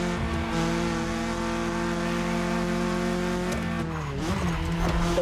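A 1982 BMW E30 drives in The Crew Motorfest, its steady engine drone humming loud and close, then dipping and rising again as it shifts near the end.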